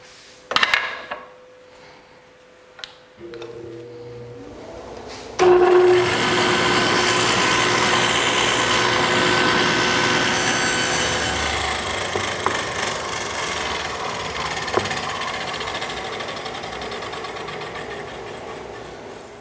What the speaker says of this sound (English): make an adjustment for the hardwood because the dado stack is set up for this plywood